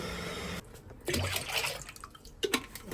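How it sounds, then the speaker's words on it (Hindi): Amul Kool milk poured from bottles into a green bhang mixture at home, an uneven liquid splashing and gurgling in bursts after a brief steady hiss, fairly soft. "अब हम लोग डालेंगे अमूल कूल की सारी बोतलें जितने हम लोग लेकर आए हैं इसमें"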